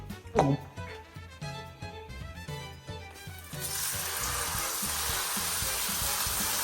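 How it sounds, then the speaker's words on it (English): Marinated steak hitting butter in a hot pan, a steady broadband sizzle rising suddenly about halfway through and holding loud and constant, after earlier clattering kitchen knocks and music-like tones. "So when the second you put this steak on, you should hear a sizzle."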